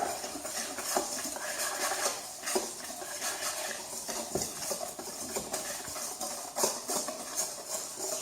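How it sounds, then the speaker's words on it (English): Salt, sugar and flour being mixed in a bowl, with soft scraping and clinking of a utensil against the dish in an irregular rhythm, fairly quiet and close. "we're gonna mix them together like salt, sugar, and the flour"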